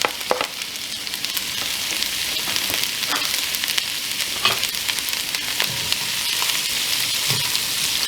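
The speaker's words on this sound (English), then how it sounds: "We're going to sweat these a little before we add the garlic." Onions sweat in a hot pan for vegan Cuban black beans and rice, a loud, constant sizzle with scattered pops and the occasional scrape of stirring close by.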